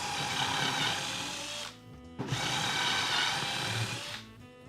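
A power drill drives screws into wood blocks on plywood, giving two sustained whirring runs with a short pause between them and the motor winding down at the end of each run.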